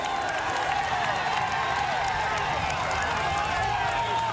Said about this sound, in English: here's the crowd for you to see, and they're very orderly too, aren't they?